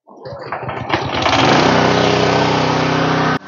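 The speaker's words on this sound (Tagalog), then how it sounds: "Start natin yung ating generator." A portable generator starts up to power welding work, coughing and sputtering briefly before catching and settling into a loud, steady engine drone; no one speaks.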